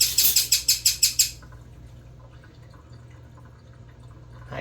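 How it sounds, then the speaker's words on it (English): A small bird chirps in quick, bright bursts about eight times in a row close by, then falls quiet, leaving a low hum and faint clinks from dishwashing. "I'm really sorry about the bird."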